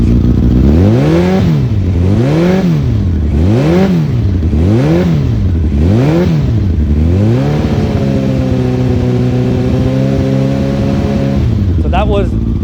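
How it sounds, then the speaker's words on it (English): A loud 1989 Honda CBR1000F motorcycle engine, warmed up, with a Delkevic exhaust and baffles in, revs up and down in several rhythmic pulses toward 5,000 rpm, then holds a steady high drone around 4,000 rpm before cutting back near the end. "It's properly warmed up now, so let's rev it."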